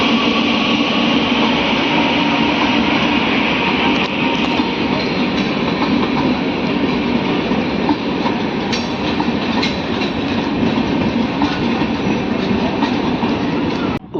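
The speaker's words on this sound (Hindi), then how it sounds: "अपनी जो ट्रेन है वो अराइव कर रही है रसड़ा स्टेशन पे" The Purvanchal Express rolls into Rasra station in loud, steady rail noise, with wheels rumbling and a continuous clatter heard from on board the general coach for the full length.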